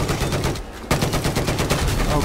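Gunfire from a metal-frame gun in a tank combat video game, loud rapid bursts with a brief pause before firing resumes.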